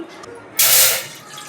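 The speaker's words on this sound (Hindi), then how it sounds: "इसमें डाल लेंगे 1 गिलास पानी" A glass of water pours briefly into a pan for sugar syrup, a rush of splashing that swells and then fades within about a second.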